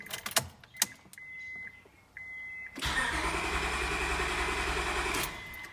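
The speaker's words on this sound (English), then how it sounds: "Now we're gonna come into the vehicle and crank the engine just to relieve that fuel pressure." A 2002 Acura TL-S engine cranks steadily for about three seconds without catching, heard from inside the car, preceded by a few door or interior clicks and a short electronic chime.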